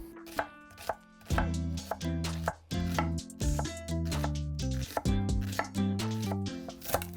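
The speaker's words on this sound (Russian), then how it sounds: "А пока шашлык жарится, порубим лук и зелень, чтобы присыпать его в конце." Onion and fresh herbs being chopped with a knife as a topping for grilled shashlik: fast, rhythmic, close-up chops with brief pauses between runs, no voices.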